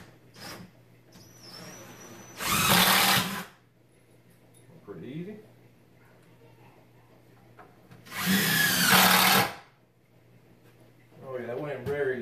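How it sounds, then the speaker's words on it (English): A cordless power drill drives screws at an angle to toenail a wooden stud into a load-bearing wall frame: two loud, whirring bursts of a few seconds each, close by, with a person talking briefly between them. "Got my drill here. I'm gonna what's called toenail it in with these screws."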